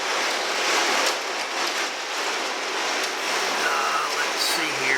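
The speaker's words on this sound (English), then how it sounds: "It's rained 1 inch in 20 minutes." Heavy rain mixed with hailstones sweeps across an open field in a storm. It makes a dense, continuous roar at steady loudness, with faint voices underneath.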